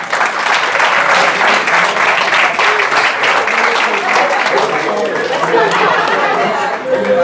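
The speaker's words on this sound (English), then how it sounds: "Can we have a round of applause for Jamie?" A retreat audience gives a round of applause, a dense, steady wash of clapping that fills the whole stretch, with a murmur of crowd chatter mixed underneath.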